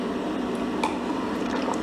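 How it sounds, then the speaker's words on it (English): A person takes a close-up sip of a drink, water or Kool-Aid, with soft wet slurping and gulping sounds and no talking. "let me get a sip of my water first"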